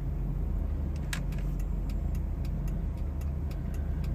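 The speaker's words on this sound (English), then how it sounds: "Now I'm going to use the right turn signal." Right turn signal flasher on a 1999 GM Suburban with the 5.7-liter engine, clicking in a steady regular rhythm of sharp ticks over a constant low engine idle rumble, with no voices.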